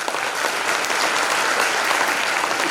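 Dense, steady applause from an audience at a hypnotherapy talk in Pune, sustained and even throughout with no pauses and no voices standing out.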